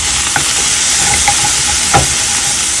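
Shrimp pasta sizzling in a frying pan, a bright steady hiss with a few soft clicks and stirring scrapes, close and continuous.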